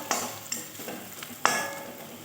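Garam masala being stirred into a spicy watermelon and prawn curry in a pan: a few close, scraping strokes spaced about a second apart, the last one strongest, with no voices.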